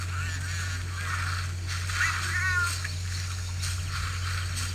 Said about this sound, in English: There's another cat up here.